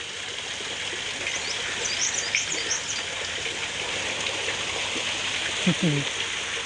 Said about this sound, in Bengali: ওই সাইডে পানি পড়তেছে